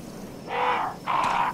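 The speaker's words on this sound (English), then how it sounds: "Hello, crows." Two harsh crow caws, each about half a second, ring out in succession from the Resident Evil game, fairly close and clear over a faint background hum.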